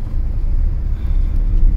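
A Kia Sonet with an iMT gearbox accelerates hard as its turbo engine comes on, a dense, steady low rumble of engine and road noise heard from inside the car, loud and continuous with no talking.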